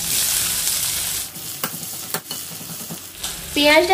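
Nigella seeds and chopped onion sizzle loudly in hot oil for a rui fish curry, a bright crackling hiss that eases off as a spoon scrapes and clinks in the pan, then flares again.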